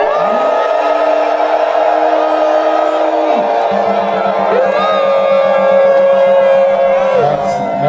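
Crowd at an association meeting raising hands in acclamation, a steady dense roar of voices and whoops mixed with sustained tonal shouting, loud and continuous throughout.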